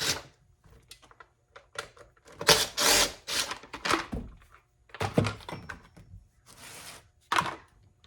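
Removing the top cover from a Husqvarna 346XP chainsaw during a teardown, with a series of close plastic clunks, scrapes and rattles in irregular bursts and quiet gaps between them.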